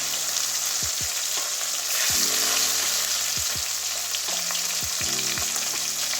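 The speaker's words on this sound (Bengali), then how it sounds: "অল্প অল্প করে ভাজবো উল্টাতে অসুবিধা হচ্ছে তাই অল্প অল্প করে ভেজে নেব" Tangra fish fry in hot oil with a loud, continuous sizzle, punctuated by several low knocks and clunks from the pan and utensil as pieces are turned.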